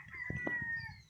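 A chicken in a rural Philippine village gives a brief, close cluck and a short call, lasting about a second, with no voices.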